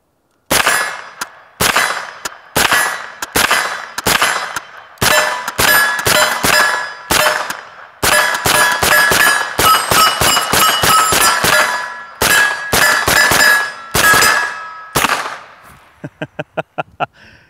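Rapid handgun shots firing HST nickel-plated 124-grain hollow point rounds, loud and close, in quick strings of sharp reports with short pauses between groups and metallic ringing of steel targets, ending in a faster burst of fainter cracks.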